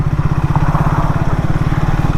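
A Triumph Speed 400 motorcycle climbs an incline slowly at about 18 km/h in third gear, its single-cylinder engine thumping in a steady, even low pulse, close and loud.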